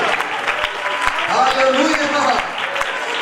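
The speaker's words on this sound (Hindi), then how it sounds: "ताली बजा के उसकी आराधना दे" A congregation claps steadily in rhythm during a Hindi church worship service, with a preacher's voice calling out over the even, repeated claps.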